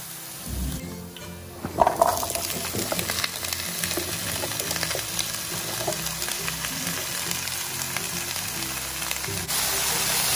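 Vegetables being stirred in a cooking pan for ginataang sari-saring gulay, a mixed vegetable coconut milk dish, sizzling and frying steadily throughout with scraping stirs and a sharper clatter early on, no talk.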